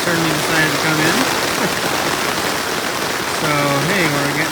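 Rain falling steadily on a tent in the wilderness, a dense close patter throughout, with someone speaking over it at the start and end.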